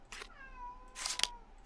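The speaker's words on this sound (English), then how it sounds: "That's my cat." A house cat meows twice, close and fairly clear, during a quiet pause in a deck-building card game explanation; the first call is drawn out, the second shorter, with a small sound at the end.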